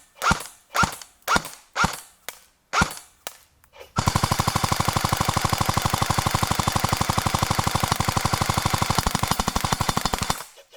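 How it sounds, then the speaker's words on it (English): Airsoft AK rifle with a faulty hop-up shooting BBs at a target: several single shots spaced out, then a long rapid full-auto burst of steady, evenly spaced cracks lasting about six seconds. "if we lob the BBs to the target and aim quite a bit upward, we could still hit pretty decent shots"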